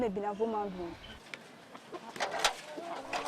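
Chickens cluck and chirp in a short burst, with a harmonic call at the start followed by scattered clucks and pecking sounds close by.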